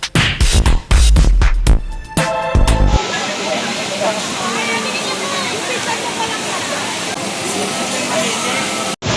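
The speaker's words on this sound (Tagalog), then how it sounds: "Yan, bukal. Virgin water. Galing talaga siya sa lupa." Spring water flows from the ground at a mountain site by a river, making a steady, loud rushing wash. Loud talk and bumping fill the first three seconds.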